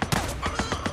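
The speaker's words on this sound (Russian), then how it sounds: "А откуда стреляют еще?" Rapid, dense gunfire in the video game Days Gone, many loud shots rattling off in a fast, uneven volley with nearly no pauses.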